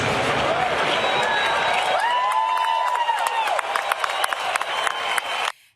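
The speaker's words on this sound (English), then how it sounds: "As the crowd chanted USA, a video of Charlie and a message from his widow Erica played at the stadium." A stadium crowd at a New York Jets game roars and cheers during a tribute, with whoops and sustained shouting from many voices, loud and continuous until it cuts off abruptly.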